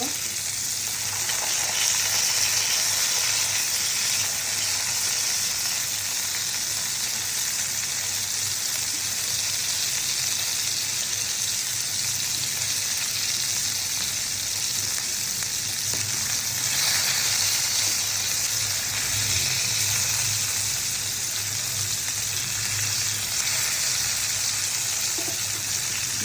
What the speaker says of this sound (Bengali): মাছগুলো উল্টিয়ে পাল্টিয়ে ভাজা হয়ে গেছে